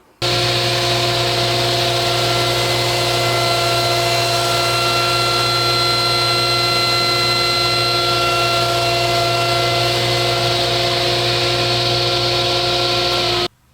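A table saw runs while cutting a 3/4 inch board, its loud, steady motor whine holding close and unbroken throughout.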